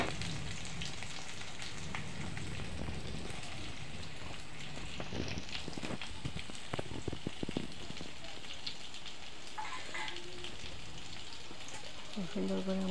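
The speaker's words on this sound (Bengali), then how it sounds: "আমি আরও কিছুক্ষণ ভেজে নেবো ভালো করে, কাঁচা কাঁচা না থাকি" A mustard and poppy seed filling for karkol frying in a pan, a dense crackling sizzle with stirring scrapes and occasional clinks throughout, with faint background voices.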